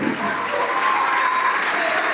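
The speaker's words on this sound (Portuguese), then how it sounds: "Vamos aplaudir mais por cada vida que está chegando." Church congregation applauding together in a Portuguese-speaking service, a steady, dense wash of clapping that stays even and fairly loud for about two seconds, with no voices over it.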